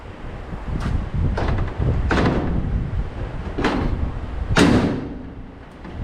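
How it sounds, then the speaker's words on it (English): A door on a 1967 Chevelle being fitted for door gaps is shut several times in a row, each a sharp, loud thump with a rattle, spaced about a second apart over a steady background rumble. "Here's our first shutting of the door"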